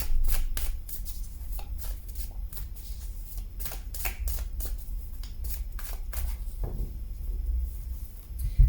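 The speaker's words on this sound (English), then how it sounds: "as I'm shuffling the cards" Tarot cards being shuffled by hand, a series of quick riffling bursts and soft flicks repeating irregularly at close range, fairly quiet, with no talking.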